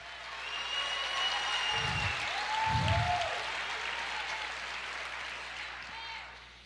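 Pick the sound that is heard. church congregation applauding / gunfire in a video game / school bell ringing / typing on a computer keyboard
church congregation applauding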